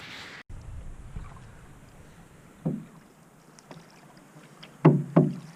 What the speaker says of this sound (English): Paddle on the other side, Taylor.